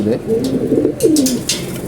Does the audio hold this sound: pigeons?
yes